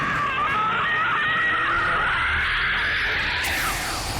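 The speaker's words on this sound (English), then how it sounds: "The worst part was listening to the unskippable wretches scream every single time we had to restart" Wretches in Gears of War screeching in a sustained, piercing chorus of shrill cries with no talk, holding steady for several seconds before a sharp higher burst near the end.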